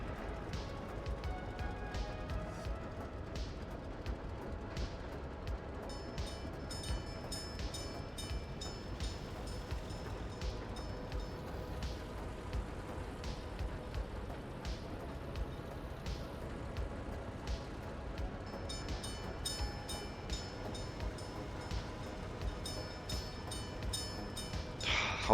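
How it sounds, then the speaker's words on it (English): A train rolling past a rail crossing beside a house, a steady loud rumble and clatter of wagons that holds for the whole stretch, with the crossing's noise mixed in and no talking. "when a train goes by, and it's not just the train itself; it's the noise from the crossing"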